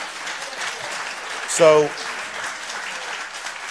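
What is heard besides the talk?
town hall audience clapping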